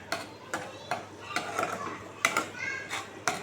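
A spoon stirs a paneer mixture with oil, cumin, turmeric and salt in a pan, producing intermittent scraping clinks against the metal at an uneven rhythm over a faint background sizzle.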